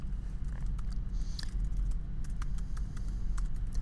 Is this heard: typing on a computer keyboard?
yes